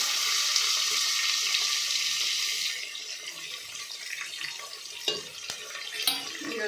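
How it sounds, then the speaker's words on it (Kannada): Mustard seeds, cumin, curry leaves and onion frying in hot oil: a loud, hissing sizzle that abruptly quietens partway through, followed by softer frying with a few sharp spatters and utensil knocks. "ಈಗ ಎಣ್ಣೆ ಕಾದಿದೆ ಸ್ವಲ್ಪ ಸಾಸಿವೆ ಸ್ವಲ್ಪ ಜೀರಿಗೆ ಹಾಕ್ಕೊತಾ ಇದ್ದೀನಿ ಅದ್ರ ಜೊತೆಗೇ ಸ್ವಲ್ಪ ಕರಿಬೇವು ಮತ್ತು ಈರುಳ್ಳಿ ಕಟ್ ಮಾಡಿಟ್ಕೊಂಡಿದ್ದಲ್ಲ ಅದನ್ನು ಸೇರಿಸ್ಕೊಳ್ಳೋಣ"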